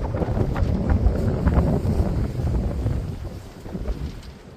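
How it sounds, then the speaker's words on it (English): Strong onshore wind buffets the microphone on Chesil Beach, a steady broadband roar with gusty swells throughout, loud and close, with no talking. "it is blowing a hoolie into my face"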